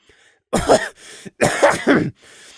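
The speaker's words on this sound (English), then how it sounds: "Prey paused to cough and swallow." A few throaty coughs and a clearing of the throat in quick succession, close and fairly loud, with short pauses between bursts.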